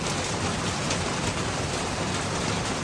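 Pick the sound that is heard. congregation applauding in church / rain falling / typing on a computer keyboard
rain falling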